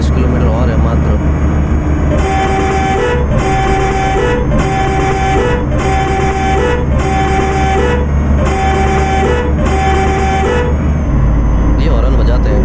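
Ashok Leyland truck in Euro Truck Simulator 2 sounding a musical multi-tone horn six times in a regular rhythm over a steady engine rumble, loud and close, with a voice talking alongside.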